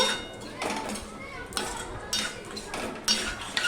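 Vegetables being mixed with raw mustard oil in a metal pan for a Bengali no-onion, no-garlic niramish dish, giving repeated scraping and clinking strokes of a utensil against cookware, close and moderately loud, with no talking.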